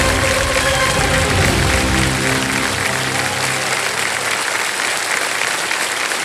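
Studio audience applause on a televised quiz show, dense and loud clapping with music and low tones underneath at first, then continuing strongly on its own.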